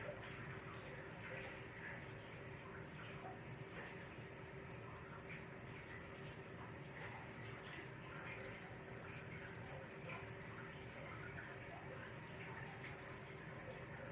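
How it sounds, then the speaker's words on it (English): Tap water runs steadily into a mixing bowl as it is rinsed out after baking, a continuous quiet splashing rush that carries on alone throughout. "let me rinse this out"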